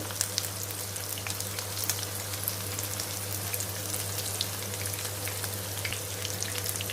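Masala-coated vanjaram fish deep frying in hot oil on low heat, a continuous dense sizzle with scattered small pops, close and even throughout, over a low steady hum.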